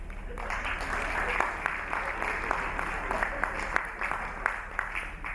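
Scattered audience clapping at a stand-up comedy show, a steady patter of many hands through the room, fairly loud and continuous with some sharper claps standing out.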